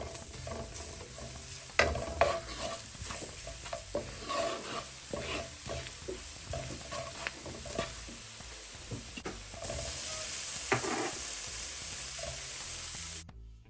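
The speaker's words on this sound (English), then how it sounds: "let's let this curry burn off" Curry powder fries in oil in a pot, giving a steady close sizzle broken by scraping stirs; partway through the frying swells into a louder, denser hiss before cutting off.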